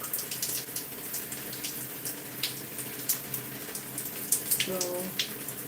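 Water runs steadily from a tap indoors as a soft, continuous hiss, with a few small clinks and splashes. It stays at low to moderate volume under faint background voices.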